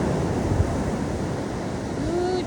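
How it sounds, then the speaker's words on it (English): Large ocean waves rolling onto a black-sand beach in Costa Rica at sunset, a constant loud roar of surf with wind buffeting the microphone and a faint whistling tone near the end, no clear talk. "Oh my gosh, the waves are so huge."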